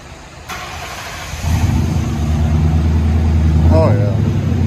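Mercury Grand Marquis 4.6L V8 with Flowmaster Flow FX mufflers and stainless steel tailpipes starts up and settles into a deep, loud, steady idle burble, with a brief voice near the end.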